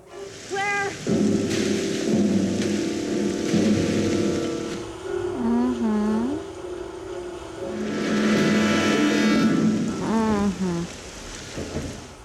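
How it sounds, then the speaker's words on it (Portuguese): Steady heavy rain with rumbles of thunder from a TV drama scene, loud and continuous beneath voices that speak over it. "Olha a chuva."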